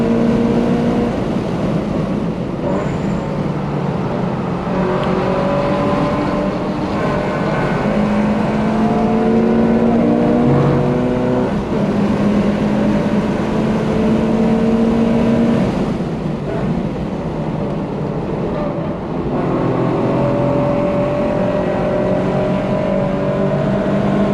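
Race cars lap Watkins Glen International, a loud, continuous engine roar heard from inside or near a car, with rising and falling revs through gear changes and braking over about twenty-four seconds.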